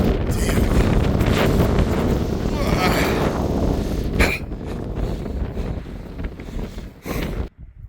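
Strong wind on Mount Madison along the Appalachian Trail, roaring and buffeting straight into the microphone in loud gusts, with a person speaking briefly under the blustery noise.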